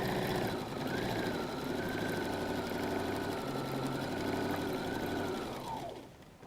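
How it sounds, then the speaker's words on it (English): A sewing machine stitches across the top of a pocket facing on a messenger bag, one close continuous run of motor whir that winds down at the end, no voices. "now I'm actually sewing across the top of the pocket facing"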